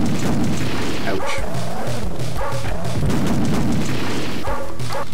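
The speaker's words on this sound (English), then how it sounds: "They're little tiny puppies" Small puppy-like dogs barking in the arcade video game N.A.R.C., a run of loud repeated yips and barks in bursts over heavy game noise and booming effects.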